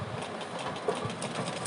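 Sewing machine stitching a fine hem along the edge of a pant leg, a steady close mechanical whir running continuously without pause and with no voices over it.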